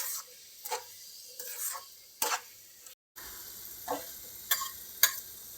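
A spoon stirring thick coconut laddu mixture in a pan, soft separate scraping strokes spaced irregularly, close and quiet, with a faint sizzle underneath, no talk.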